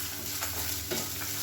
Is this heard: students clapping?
no